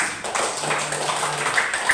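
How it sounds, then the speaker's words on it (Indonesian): Students in a classroom clap their hands together at the end of a lesson, a close, steady patter of many hands lasting about two seconds. "kita tepuk tangan dulu untuk hari ini"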